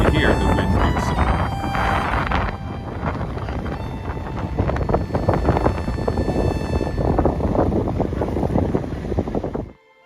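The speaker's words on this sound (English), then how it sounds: "I'll leave the audio on for this short clip just so you can hear the wind for yourself" Strong wind buffets the microphone on the rocky Giant's Causeway coast, a loud, continuous roaring rumble with gusty surges, faint surf underneath and possible voices mixed in, cutting off abruptly at the end.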